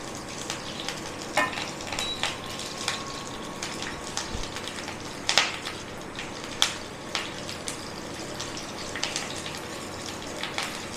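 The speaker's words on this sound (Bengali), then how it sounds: "এটা ভালো করে ভেজে নেব। দারুণ একটা সেন্ট ছাড়বে এই কারি পাতার আর সর্ষে।" Curry leaves and mustard seeds fry in hot oil for homemade dhokla, a soft continuous sizzle dotted with crisp pops and spatters and a few louder crackles, heard close and alone.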